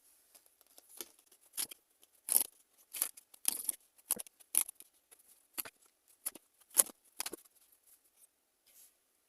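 Tarot cards being drawn and handled at close range: a scattered series of crisp papery snaps, flicks and slides with quiet pauses between them, and no talking.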